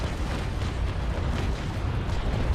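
A ship's carronade broadside in a Naval Action sea battle between sailing frigates roars as a dense, continuous rumble of heavy booms, loud and low.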